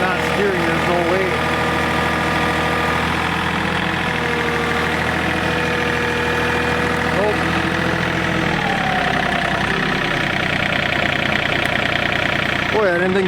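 A John Deere 3025e compact tractor strains under a heavy load, its engine holding a loud, steady, knocking drone that rises and falls slightly while a person talks over it.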